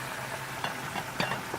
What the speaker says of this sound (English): I am frying some chicken